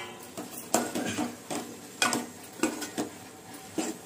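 Fish curry masala being stirred in oil in a pan, a utensil scraping and knocking against the metal in about six distinct strokes, close and moderately quiet over a soft sizzle.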